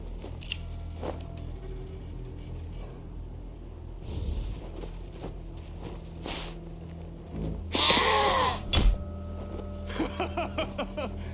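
Goat in the post-apocalyptic role-playing game Wasteland 2 bleating loudly with a wavering cry near the middle, preceded by a dull thump and crunchy impact noises over a quiet game ambience.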